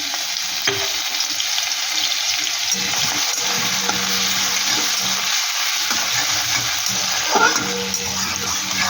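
Ginger, garlic and green chilli fry in hot oil with a steady, close sizzle, broken by a few soft scrapes of stirring and no voices.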